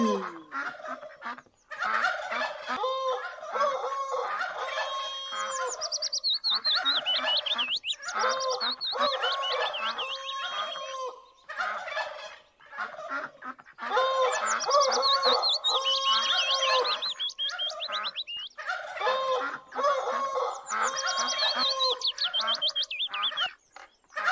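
Turkeys and a hen at a zoo cage make a dense, continuous chorus of honking gobbles and squawks, loud and close, with short pauses before the flock starts up again.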